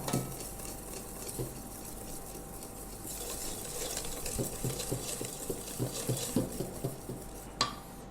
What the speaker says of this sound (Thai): แล้วก็คนให้เขาเข้ากัน